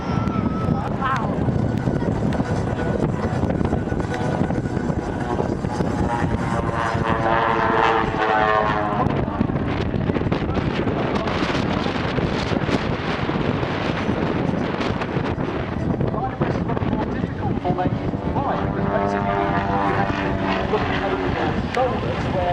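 Propeller aerobatic aircraft flown by a two-pilot display team drone continuously over a seafront air show, the engine pitch rising and falling in sweeps amid wind buffeting, with a commentator's voice heard over it.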